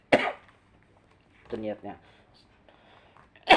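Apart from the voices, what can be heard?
coughing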